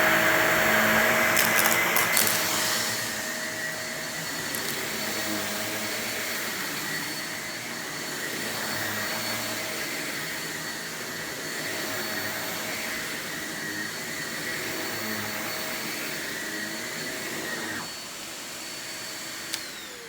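A small, compact Shark Navigator NV22L upright vacuum cleaner running on a bare floor, a steady loud whine with a constant motor tone held for about eighteen seconds, then cutting off, with no talking.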